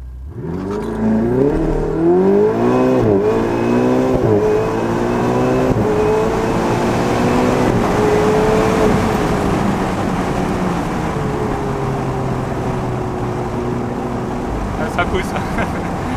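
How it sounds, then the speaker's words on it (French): Ferrari 488 Spider launching from a standing start, its engine rising through rapid gear changes in a loud, continuous rev climb that settles into a steady drone, with voices talking over it. "Voilà, on va faire un petit départ arrêté."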